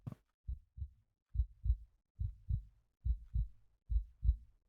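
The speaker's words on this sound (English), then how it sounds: "maybe that's our heartbeat" Steady double-thump heartbeat, low and muffled, about eight lub-dub pairs in an even rhythm with no talk over it.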